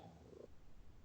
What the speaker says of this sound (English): You can probably hear my cat purring in the microphone right now.